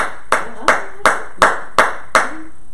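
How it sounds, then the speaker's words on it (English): Six sharp, evenly spaced hand claps from a Bible study congregation giving praise, each clap crisp and fairly close, repeating at a steady rhythm with short decays between. "Give the Lord a hand clap of praise."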